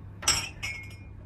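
Glass cups in a Wetherspoon hotel clink together twice in quick succession, a sharp, bright, close tap followed by a softer second one in a quiet room.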